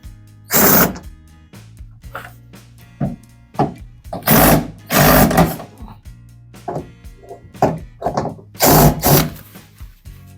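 Three screws are removed from the panel of a Candy CSOEC10TBE-19 tumble dryer with a power driver, giving repeated loud whirring bursts separated by short pauses and small clicks, close by.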